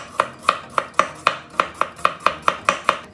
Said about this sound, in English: Slice the carrot thinly.